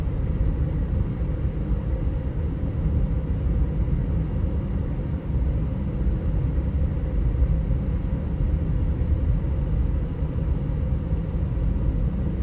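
Road traffic while driving on the outskirts of Pine Mountain, Georgia, a loud, steady low rumble of tires and engine that continues unbroken.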